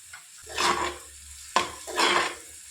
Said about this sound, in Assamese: ইয়াতে মই আদা ৰচুন দি দিছোঁ।